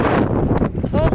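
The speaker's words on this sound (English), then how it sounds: "it is super windy" Strong wind roaring across the microphone at a coastal skeet shooting range, loud and continuous, with a brief voice audible near the end.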